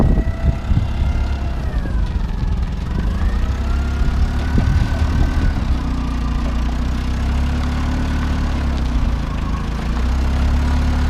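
A lawn mower engine runs continuously at a steady idle, close and loud, with a low droning rumble and a slight shift in pitch partway through.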